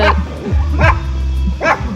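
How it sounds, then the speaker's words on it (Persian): Dog barking in a forest setting, three loud close barks spaced roughly evenly, each with a whiny yelping edge, over steady low background rumble. "باز داره صدا سگ میاد."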